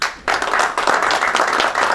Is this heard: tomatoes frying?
no